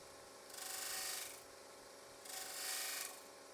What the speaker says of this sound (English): I'm also going to take just a little rounding cut on this outer rim